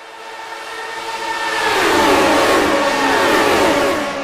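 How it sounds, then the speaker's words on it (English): Lotus 79 racing cars in a sim racing game, engines swelling from a thin distant whine into a loud, sustained high-revving roar as they pass close, with no talking. "Turn up the engine noise of these Lotus 79s."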